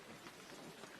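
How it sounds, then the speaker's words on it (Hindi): Heavy rain pours steadily as a dense, even hiss of drops drumming on surfaces, with no voices and no pause over the short stretch. "देखो अभी भी झमाझम चल रही है बारिश।"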